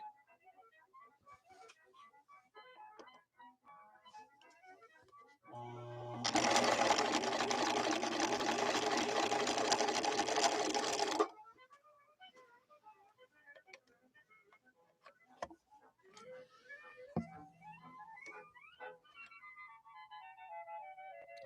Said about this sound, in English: let's give this a try, see what we think